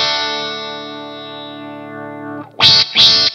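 A Way Huge Attack Vector phaser and envelope pedal with the range knob turned up, a sustained guitar chord sweeping bright and high, followed by two short strummed stabs full of sizzling treble.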